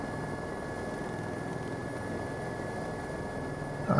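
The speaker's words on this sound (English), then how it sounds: "there's the other helicopter coming in there now" A helicopter idles and taxis on the ground near Stockholm, a steady whining engine drone with fixed tonal hum and a broadband rush, continuous and alone before a sudden louder jolt at the very end.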